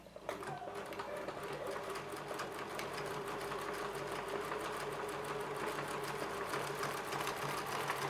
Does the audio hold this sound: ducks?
no